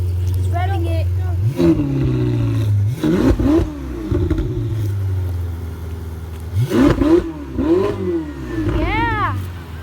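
Ferrari engines blip and rev repeatedly, several sharp rises and falls in pitch close by, with a steady idle between the bursts and people talking over them.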